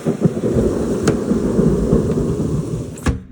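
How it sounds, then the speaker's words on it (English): Thunder rolls and rumbles through a windy thunderstorm in Troy, Illinois, a loud sustained low roar with a sharp crack near the end, wind noise and possible rain hiss underneath. "Storm's coming in."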